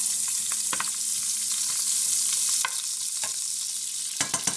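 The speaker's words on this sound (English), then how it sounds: "Gonna put my butter in there. Let it melt down real quick." Butter melts in a pan for hamburger steak gravy with a loud, continuous hiss and crackle, broken by a few faint clicks and taps of a utensil near the end.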